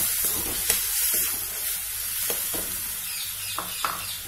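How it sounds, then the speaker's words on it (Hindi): Onion, tomato and garlic paste with bay leaf, green cardamom and red chilli frying in a pan, a soft steady sizzle with scraping stirring and occasional clicks of the spoon, no voices. "और अच्छी तरह से भूनेंगे मसाले को।"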